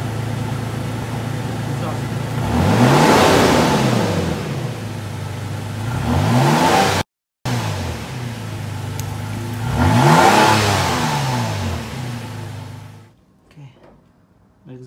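A 2018 Toyota Tacoma pickup fitted with an MBRP 3-inch cat-back exhaust revs loudly and up close, two rising-and-falling throttle blips with a brief cut between them, settling back toward idle at the end.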